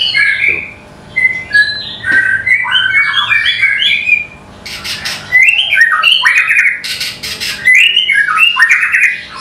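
A caged songbird sings close by in varied whistled phrases, slightly slurred, rising and falling bursts with brief pauses, loud and clear with no one talking.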